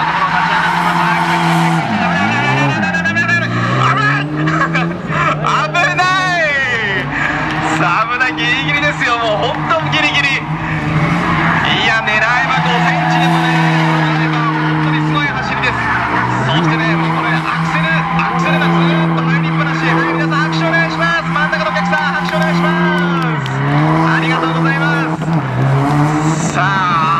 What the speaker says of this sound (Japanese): 止まらない、止まらない。 新井俊博選手、まだ回る、まだ回る